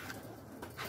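Soft cooing of pigeons or doves, a few low murmuring calls over a faint background hiss, fairly distant and quiet.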